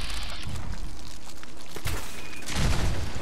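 Gunfire in Fallout 4 during an island fight, with a few sharp booming shots at irregular intervals over a continuous noisy game background.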